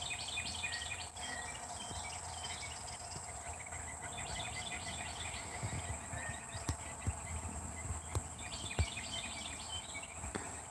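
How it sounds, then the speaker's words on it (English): Morning birdsong in a quiet rural setting, repeated chirping phrases over a steady high insect drone, fairly faint and distant, with occasional soft clicks. "We have lots of bird song this morning."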